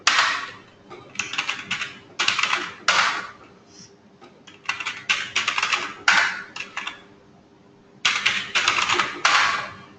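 A password being typed on a computer keyboard at a Linux terminal, with several bursts of rapid, close keystrokes separated by short pauses and nobody speaking.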